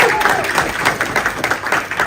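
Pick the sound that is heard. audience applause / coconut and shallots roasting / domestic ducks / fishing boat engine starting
audience applause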